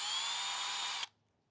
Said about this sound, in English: Put our hand in reverse, or the drill in reverse